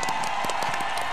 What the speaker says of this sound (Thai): ปรบมือให้กำลังใจกัน